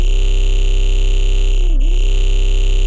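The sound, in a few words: Thermal Fluid synth preset from Pressure pack for Vital synth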